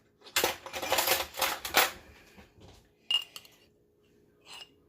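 A metal spoon clinks and scrapes inside a jar of dried mushroom powder, with a dense burst of rattling contact up close, then a few isolated light clinks and taps, no voices.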